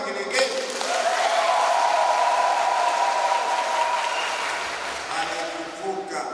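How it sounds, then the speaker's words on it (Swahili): Church congregation at an Easter Mass applauding and ululating, a dense, sustained wash of clapping with a high, wavering ululation line running through the middle, steady and fairly loud throughout. "Tumpongeze kwa makofi na vigelegele."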